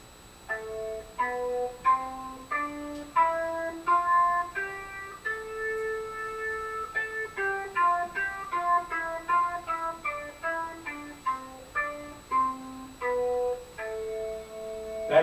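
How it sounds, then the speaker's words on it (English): Natural minor (Aeolian) scale starting on A, played as distinct single notes moving up and down at a moderate, even pace, fairly quiet and close, with no talking. "That's natural minor."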